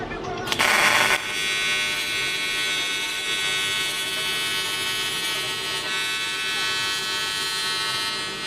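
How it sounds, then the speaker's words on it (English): Raw aluminum turbo piping is sanded with a power sander, a steady high-pitched electric whine and buzz running continuously after a brief louder burst at the start. "I'm going to sand it before I get to welding."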